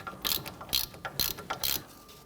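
A ratchet with a 19mm socket loosening a nut on a 2011-2015 Kia Sorento's front steering rack, five quick close bursts of rapid clicking in steady rhythm.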